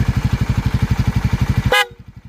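A Suzuki Raider 150 Fi motorcycle engine idles with a rapid, throbbing putter, then a short, loud blast from an MXR M85 electromagnetic horn cuts in near its end before the idling continues.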